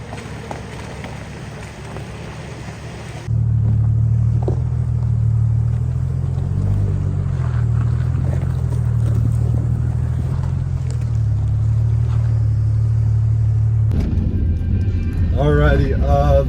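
Truck engine running steadily while four-wheeling through snow, a loud continuous low rumble that kicks in after a few seconds and holds, with a brief change in tone near the end.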